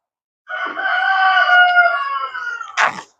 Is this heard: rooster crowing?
yes